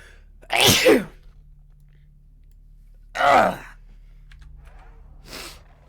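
Three sneezes spaced a couple of seconds apart, close and loud at first, the last one softer, with quiet in between.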